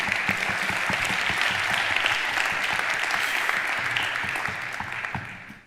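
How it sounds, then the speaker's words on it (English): Loud, sustained applause from an audience at a startup venture pitch event in Madrid, dense clapping that holds steady for several seconds before tapering off at the end. "So a big round of applause to all the startups here tonight."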